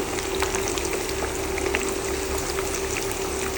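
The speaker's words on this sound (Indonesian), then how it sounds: "ini tahu tempenya udah mulai golden brown. Aku balik sekali lagi." Tofu and tempeh fry in hot oil as they turn golden brown, giving a continuous dense sizzle with a constant bubbling crackle and a steady hum underneath.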